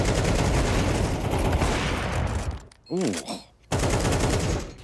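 Rapid gunfire rattles in Counter-Strike 2 during a PGL tournament match, dense bursts of automatic shots that break off briefly midway and then resume, as a commentator lets out a short exclamation.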